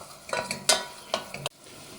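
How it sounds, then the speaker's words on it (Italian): Garlic frying in a soffritto for a rabbit ragù, with soft sizzling and a few stirring scrapes and clinks in the pan. It is quiet and close, with no speech. "Aggiungo anche un pochino di aglio nel soffritto, che ci sta sempre molto molto bene."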